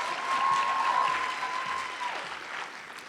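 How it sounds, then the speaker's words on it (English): An indoor audience at a scholar night gives students a warm round of clapping, steady and dense at first and then thinning slightly as it fades. "Let's give them another round of applause."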